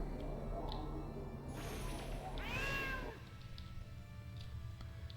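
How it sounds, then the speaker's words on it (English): A cat in a video game lets out a single rising and falling meow over a steady hum of game background noise. The meow is fairly clear and is followed by quieter ambience. "There's a cat."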